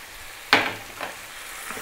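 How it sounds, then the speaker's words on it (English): Onions fry in a pan for a lamb curry, a soft steady sizzle broken by a sharp stirring scrape and a few quieter stirs after it. "So those onions are cooking down nicely."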